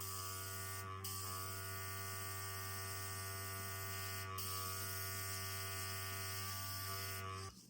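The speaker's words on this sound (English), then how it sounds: "seems to be spraying the paint pretty good" A steady, hissing airbrush spray with a 0.3 needle runs without a break over a constant compressor motor hum, close and even throughout.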